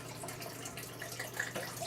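Liquid poured into an underwater fish trap, heard as a steady, close pouring and splashing wash of water with a few brighter trickles toward the end, no voices.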